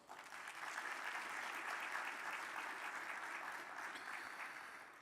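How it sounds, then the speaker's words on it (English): Sustained audience applause at an annual meeting's plenary session, a dense steady wash of many hands clapping that swells quickly, holds for several seconds and begins to taper near the end. "Let's please give them a round of applause."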